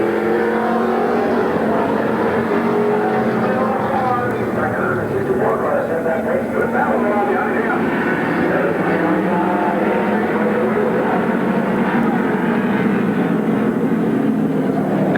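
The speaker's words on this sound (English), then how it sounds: "Good race going on between Randy Rice and Jim Paris." Stock cars race around the oval at Midvale Speedway in 1992, engines droning and roaring continuously at a distance while a track announcer talks over the noise throughout.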